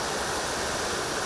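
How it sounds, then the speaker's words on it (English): Storm runoff rushes out of Tenney Lock in a continuous loud roar of churning water, steady and close, with no voices. "Some are excited to hear the rushing water,"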